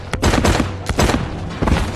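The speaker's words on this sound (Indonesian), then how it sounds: "ketika Lee menyuruh si ketua untuk menembak Dewi" Loud bursts of rapid gunfire from an action film scene come in several close, dense volleys separated by brief pauses.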